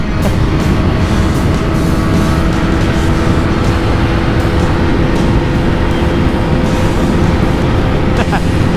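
A Yamaha R15 motorcycle rides along a road on an evening cruise, steady engine and wind rumble throughout with brief louder passes, loud and close.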